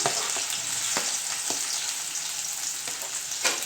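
Chopped onion fries in hot oil with a steady, bright, close sizzle, broken by a few soft stirring clicks.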